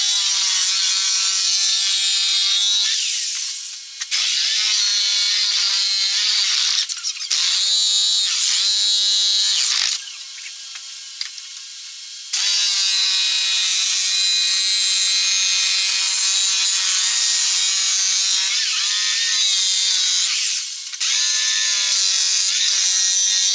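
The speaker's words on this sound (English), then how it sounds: "Got my jigsaw out here. And I'm just going to start kind of just giving it a rough cut" A jigsaw rough-cuts wooden parts for a rocking chair on a workbench, its loud buzzing, rattling reciprocation running almost continuously with short pauses and a few dips in pitch as the blade loads in the wood.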